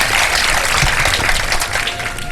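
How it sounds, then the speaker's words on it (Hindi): Studio audience clapping at a televised iftar game show, a short burst of dense, steady applause from the crowd. "ये बड़ी कंजूसी नहीं हो रही वैसे तालियों में?"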